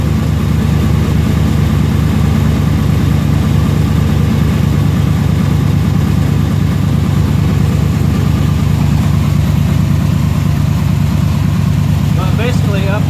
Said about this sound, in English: No noise whatsoever other than normal exhaust sounds.